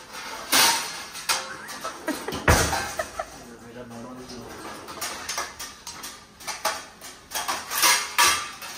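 Plates, pots and cutlery clatter and clink in a home kitchen while cooked rice is drained, with sharp irregular knocks up close and voices talking intermittently.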